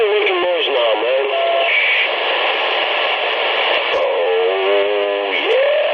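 A Yaesu two-way radio transceiver blares loud, continuous hiss and static, with warbling, distorted voice-like tones sweeping through it.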